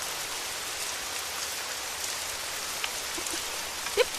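Steady, even rain hisses across the whole stretch, a dense patter on surfaces with a few louder drips near the end, no voices.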